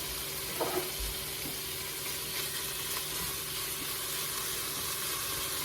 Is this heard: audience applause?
no